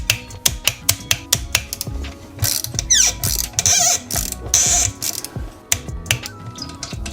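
A torque wrench tightens an M6 bolt on a motorcycle engine to 10 Nm, giving close, crisp ratcheting clicks in quick runs with a few louder mechanical bursts and no voices.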